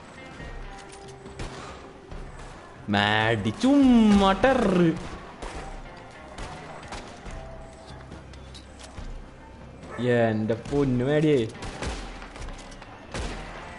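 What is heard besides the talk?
gunshots in video game Red Dead Redemption 2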